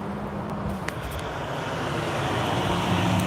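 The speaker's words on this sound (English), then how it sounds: "Big truck just went by." A big truck drives past on a road, its rumbling engine and tire roar swelling slowly from moderate to louder as it nears, with general traffic noise behind it and no voices.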